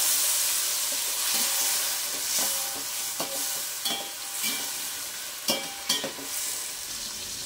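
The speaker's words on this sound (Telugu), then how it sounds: "ముందుగా కట్ చేసి పెట్టుకున్న టొమాటో ముక్కలు అలాగే పచ్చిమిర్చి ముక్కలు కూడా వేసేద్దాం." Tomato and green chilli pieces stir-fried in a pan for vegetable biryani, a bright sizzle broken by several sharp scraping stirs of a utensil, close and alone.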